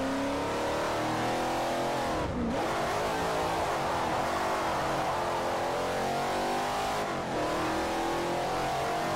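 Virtual race car drifting in Forza Motorsport 4, engine revving loud and steady with two brief lifts off the throttle before it climbs again, no voices.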